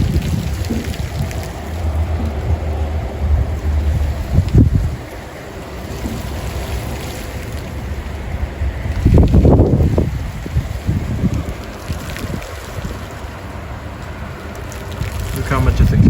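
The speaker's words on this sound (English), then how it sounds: "that is sleet and hail falling" Sleet and hard hail fall during a winter thunderstorm with strong gusty winds, a steady loud rushing patter pushed around by bursts of wind that swell and fade, with a person talking now and then.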